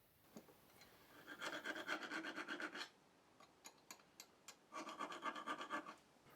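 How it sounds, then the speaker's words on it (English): A triangular file is drawn across the teeth of a countersink brace bit in two rhythmic bursts of rapid rasping strokes, close and crisp, with a few scattered taps and scrapes between them. "The countersink bit is sharpened using a triangular file."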